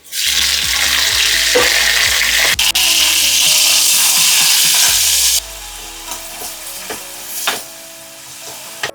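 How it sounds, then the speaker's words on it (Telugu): Tomatoes added to reddened onions frying in oil for chicken pulao give a loud, close, dense sizzle with scraping stirs. The sizzle drops sharply about halfway through to a softer crackle with occasional utensil knocks. "ఇప్పుడు వచ్చి టమోటాలు వేసుకుందాం చూడండి"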